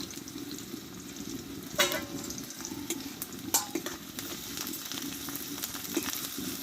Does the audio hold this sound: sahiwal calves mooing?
no